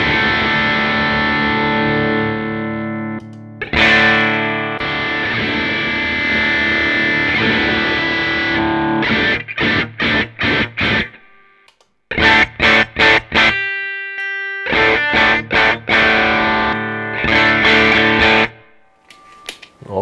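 Electric guitar through a Bogner overdrive pedal: sustained gritty chords, then a series of choppy, stabbed chords with brief gaps, loud and close with no talking.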